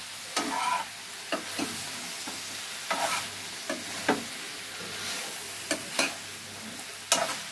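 Chilli chicken, cooked in just one spoon of oil, is tossed and stir-fried in a pan, a gentle sizzle punctuated by about a dozen irregular scraping strokes of a spatula, close by and without speech.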